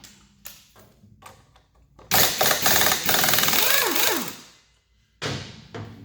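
A power tool zaps a nut off a motorcycle front fork during a fork and brake caliper rebuild, giving a loud buzzing rattle of about two seconds, preceded by scattered knocks and followed by another short burst.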